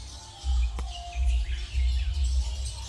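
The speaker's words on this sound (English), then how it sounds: "And the cobweb, birds chirping away." Birds chirp in an outdoor nature setting, thin high tweets repeating over a steady low rumble, moderately distant and unaccompanied by voices.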